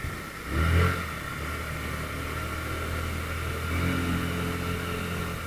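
A KYMCO Like 125 scooter with CVT automatic transmission accelerates, its engine drone swelling briefly early on and then holding a steady, close hum with a slight rise later, with no talk.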